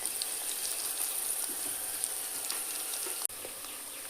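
Green chili, ginger and garlic frying in a pan while being stirred, a steady close sizzle with soft crackles and brief stirring scrapes, ending with a short sharp knock.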